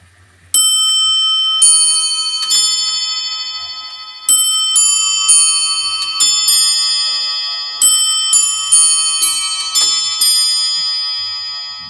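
A 1730 Haward musical clock chimes a quarter-hour tune: a run of bright bell notes struck in clusters, each ringing and decaying before the next, close and clear with no talk.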